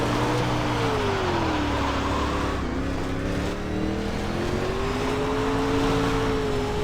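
A race car engine drones steadily on a dirt oval in iRacing, its pitch sliding up and down as the car works through the turns, loud and continuous with no speech over it.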